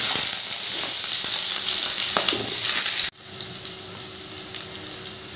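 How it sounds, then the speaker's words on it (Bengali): Chopped potato pieces fry in hot oil in a pan while cabbage is being cooked, a steady close sizzle that breaks abruptly midway and resumes slightly softer, with no talking. "এবার ওই তেলের মধ্যে দিয়ে দিচ্ছি টুকরো করে কেটে রাখা আলু"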